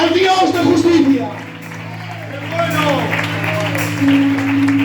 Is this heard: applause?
yes